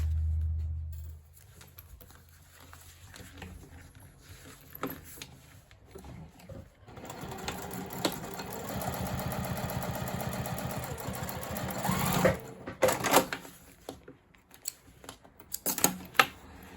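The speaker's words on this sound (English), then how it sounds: "we're going to go to the machine, we're going to fold the flap out of the way, and we're going to top stitch just right across there" A sewing machine top stitches across a folded fabric flap on a handmade sling bag, a rapid mechanical whir running several seconds mid-clip between handling clicks and fabric rustle.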